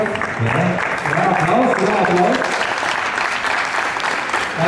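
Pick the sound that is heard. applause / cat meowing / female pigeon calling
applause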